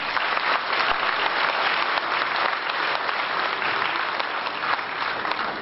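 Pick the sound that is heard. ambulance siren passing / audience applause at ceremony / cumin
audience applause at ceremony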